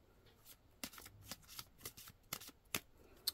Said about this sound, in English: I'm shuffling better, people.